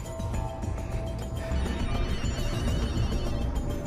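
A telephone rings after a number is dialed, a steady repeating ring tone that plays loud and close against a dense background.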